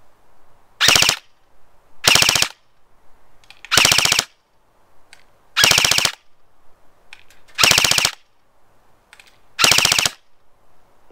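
A nylon-bodied Arcturus airsoft rifle fires on full auto in six short, loud, rapid-fire bursts, each lasting about a third of a second, with brief near-silent pauses between them.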